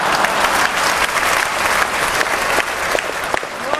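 A packed hall audience breaks into loud, sustained applause, a dense wash of clapping close by that holds steady throughout with only a faint murmur beneath.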